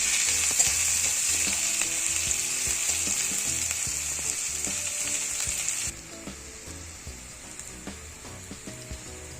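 Two medium onions and five green chillies fry in hot oil in a pan, a loud steady sizzle that drops noticeably partway through, with soft stirring knocks underneath.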